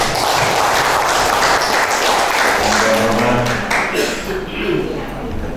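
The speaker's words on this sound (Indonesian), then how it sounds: "beri aplaus dulu untuk Ketua Majelis Syuro" A crowd at a party officials' inauguration event in Bekasi applauds for the chairman of the advisory council, with dense clapping that fades as a voice speaks over it.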